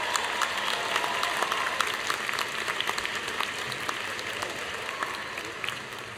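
A large crowd at the 2014 Drexel University commencement claps steadily for the graduates, a dense, sustained round of applause filling the hall.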